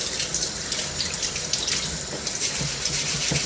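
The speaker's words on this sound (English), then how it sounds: "First, I gotta wash my fruits." Tap water runs steadily into a sink while fruit and vegetables such as radish and carrot are rinsed under it, a close, continuous splashing rush with no talking.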